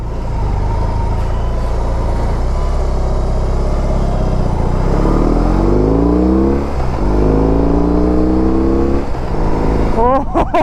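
A BMW R18 motorcycle's engine revs while riding, a low, rising roar that climbs in pitch as it accelerates, with a voice talking over it.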